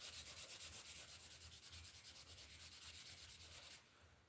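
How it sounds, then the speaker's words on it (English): Wood being hand-sanded in steady back-and-forth rubbing strokes, close and loud, roughly two per second, stopping abruptly near the end. "I guess I'm just sanding the whole thing again"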